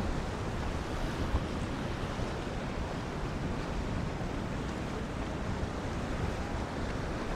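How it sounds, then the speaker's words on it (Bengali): Sea waves break along a beach in a constant, even, broadband roar of surf, with some wind noise mixed in and no distinct single crashes standing out. "দেখেন কি পরিমাণ ঢেউ আসতেছে, সমুদ্রের কি রূপ কিভাবে আসতেছে।"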